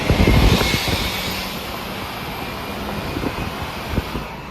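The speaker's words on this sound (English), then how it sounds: "You don't have all this exhaust, so you're just hearing the engine." A 6.0 Powerstroke diesel engine in a truck runs with a steady, loud drone and a rumbling low end. The sound stays even throughout, with a little roughness at the start.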